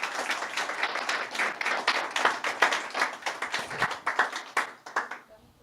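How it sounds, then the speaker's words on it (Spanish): A church congregation claps in praise during a Spanish-language service, many hands striking in a lively, uneven rhythm that ends abruptly after about five seconds. "Dele un aplauso al Señor en esta mañana."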